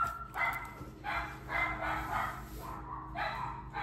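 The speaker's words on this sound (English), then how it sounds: "Sorry about my dogs are barking." Pet dogs bark indoors in several sharp bursts with short gaps between them. The barks are moderately near and come over a quiet room background.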